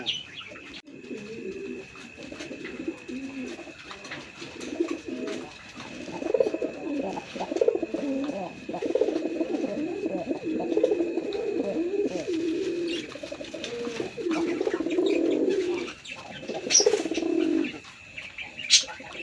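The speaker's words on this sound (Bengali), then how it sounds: "বন্ধুরা এখানে একটা রাসগোল্লা কবুতর আছে" Rasgolla pigeons coo in a low, continuous, throbbing chorus close by, with overlapping calls and a few brief chirps and rustles.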